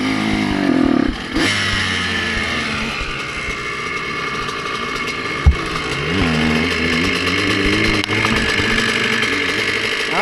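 A Honda CR125R two-stroke motorcycle engine runs loud and close, its buzzy, high-pitched note rising and falling through repeated revs, with a brief dip and a sharp knock partway through.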